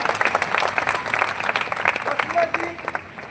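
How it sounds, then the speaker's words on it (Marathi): An audience claps in a steady, dense round of applause to welcome Lalita Bhimrao Kokode at a live gathering, with a voice speaking over the clapping. "ललिता भीमराव कोकोडे या ताईचं टाळ्या वाजवून स्वागत करा"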